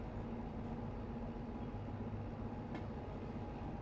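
A train rolling forward in the Derail Valley game, with a steady low rumble and a faint hum, one quick high click partway through.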